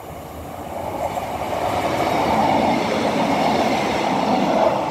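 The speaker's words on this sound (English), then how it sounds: "from Castle Cary to Bristol Temple Meads, running 2 minutes early, two car GWR class 150." A two-car GWR class 150 diesel train running from Castle Cary to Bristol Temple Meads passes at Trowbridge, a loud steady rumble and rail roar that builds and holds close by, with a faint clatter of wheels.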